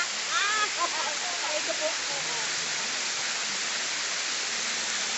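Sapaongot Falls in Ranao, Bani, Pangasinan pours as a steady, dense hiss of falling water, with a brief voice speaking over it early on.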